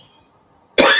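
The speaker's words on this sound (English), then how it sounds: "She has to cough because it's so nasty." A woman gives one sharp, loud cough near the end after a faint breathy sound and a short silence.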